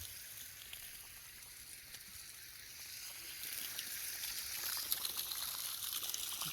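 Fresh water being poured to top up a dog's water container, a soft trickling and splashing that grows louder and fuller partway through, faint and close.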